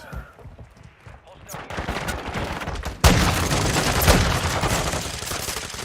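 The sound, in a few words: gunshots in Modern Warfare II video game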